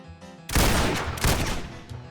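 Sudden loud gunshots in the dungeon-crawler video game Hard Boiled, two heavy blasts with a reverberant tail, coming in close together after a quiet musical lead-in.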